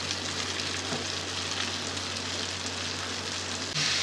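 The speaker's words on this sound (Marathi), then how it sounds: "फिश फ्राय झालेले आहे" Bombil fish frying in hot oil, giving a steady, even sizzle and hiss that runs unbroken from start to finish, with no voices over it.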